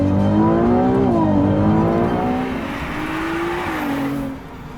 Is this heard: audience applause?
no